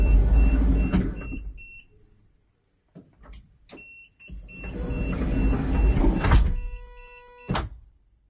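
A Kaiman electric sliding door drive, operated from the door handles, works the side door of a GAZ Sobol van: motor whirs and the door rolls with sharp clunks, pauses between, and faint electronic beeps.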